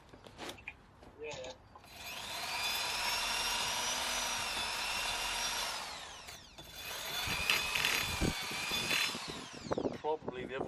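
A power drill runs during a first-time brake pad change on a car, whirring steadily in two long bursts with a brief pause between. People talk over it.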